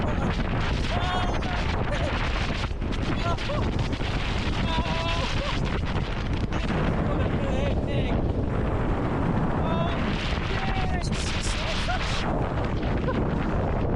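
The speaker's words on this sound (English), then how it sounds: "It's that windy that it throws you around." Strong wind roars across the exposed summit of Mount Fuji at the volcano's crater rim, a loud continuous buffeting gust hitting the microphone throughout, with a person shouting faintly over it.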